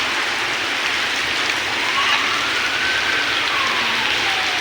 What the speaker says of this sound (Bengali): বৃষ্টি পড়ে যাচ্ছে রে ভাই